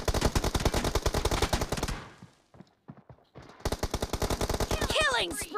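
Rapid automatic gunfire from the battle royale game BGMI in a 1v1 custom room, loud sustained bursts that pause briefly with scattered single shots before another long burst resumes.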